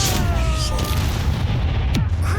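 A spell explosion from the video game Hogwarts Legacy booms heavily with deep rumbling low end, and a sharp swooping burst near the end over the continuing roar.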